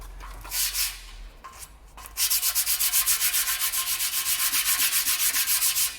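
Coarse 60 or 80 grit sandpaper is rubbed hard over a surface, first in a few scattered strokes, then in a fast, even back-and-forth rhythm of loud, close, raspy passes with no talking.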